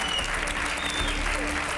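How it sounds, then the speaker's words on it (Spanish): A television studio audience applauds Txispy, a contestant from El Conquistador del Fin del Mundo, with a thick, continuous wash of clapping and no pause. "¡Un aplauso para Chispi!"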